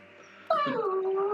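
A pet dog whimpering, a close, faint high-pitched whine that starts suddenly after a quiet moment, then wavers and falls in pitch before trailing on softly.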